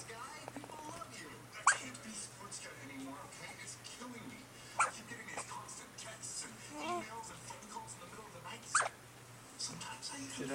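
Hiccups from a small animal, most likely a dog, come as three sharp separate spasms spaced a few seconds apart over faint breathing and quiet rustle, with a person talking softly nearby.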